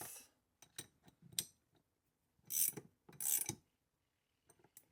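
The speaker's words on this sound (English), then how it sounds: "then we'll use our 19mm. Tighten these down just enough." A ratchet with a 19mm socket tightening bolts on an oil catch can on a 5th Gen 4Runner: a few short rasping clicks, then two louder bursts of ratcheting close by, with no talk.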